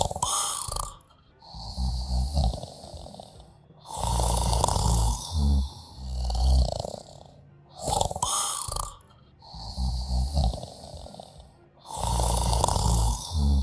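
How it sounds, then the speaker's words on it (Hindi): A man snores loudly in a train cabin, each long rasping breath rising and fading in a slow, steady cycle of about four seconds, heard alone and close. "कुछ देर में उसके खर्राटे कैबिन में गूंजने लगे"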